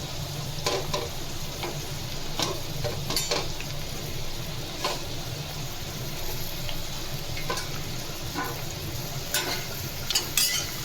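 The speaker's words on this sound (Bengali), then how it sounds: "ঝিঙেগুলো দিয়েও একটু হালকা হালকা ভেজে নেব।" Ridge gourd and potatoes fry in a pan, a steady close sizzle with scraping stir strokes that come back at irregular intervals throughout.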